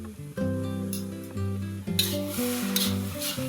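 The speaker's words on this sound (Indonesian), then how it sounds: "Kemudian kita aduk dengan menggunakan api besar hingga semua bumbu larut dan tercampur rata." Seasoning for bean sprout fried noodles is stirred over high heat, a soft sizzling scrape that grows clearer in the second half beneath louder background music.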